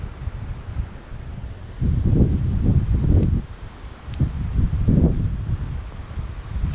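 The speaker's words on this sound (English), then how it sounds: "Very windy as well." Strong wind buffets the microphone in heavy low rumbling gusts at a campsite on the French River, surging loudest around the middle and again near the end, with no voices.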